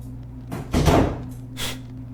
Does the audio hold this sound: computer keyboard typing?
no